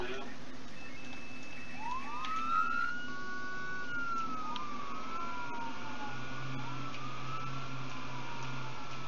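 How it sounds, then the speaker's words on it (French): Police siren from a vehicle in the Arma 3 Altis Life game, a clear rising and falling wail that sweeps through the clip over steady engine rumble, with a faint voice underneath. "Dès que vous entendez, les gyros, vous partez. La sirène."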